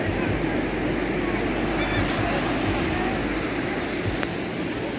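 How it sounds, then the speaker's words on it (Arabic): Sea waves wash onto the beach at Agadir, Taghazout, Morocco, as a steady broadband roar. Wind buffets the microphone over the surf, with no clear separate breakers and voices faintly mixed in. "البحر ديال أكادير غزال ما شاء الله"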